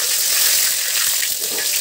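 Garlic paste and ground cumin fry in hot oil with a steady, loud, close sizzle that holds without a break.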